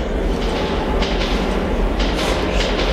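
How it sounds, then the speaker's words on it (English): Rumbling train approach inside a tunnel in Metro 2033 Redux, a steady loud low roar with rattling, hissing swells building throughout, no voices. "Oh yeah, train is coming"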